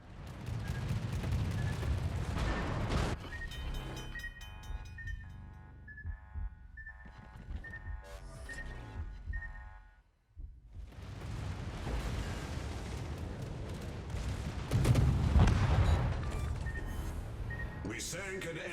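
The British cruiser HMS Hawkins fires its guns in World of Warships, and explosions sound out. Heavy booming bursts come at the start and again later, separated by a quieter stretch with game voice announcements and talking.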